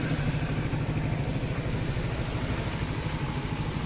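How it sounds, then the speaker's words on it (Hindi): A motorcycle engine idles steadily at close range, a constant low rumble with a rapid mechanical patter and no change in pace. "बाइक रेडी है अपनी, अब सुबह सुबह वार्म अप हो रही है।"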